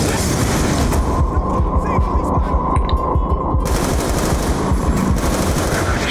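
Call of Duty campaign machine gun fire rattles in steady rapid bursts, loud and close over a low droning hum, continuing through the whole stretch.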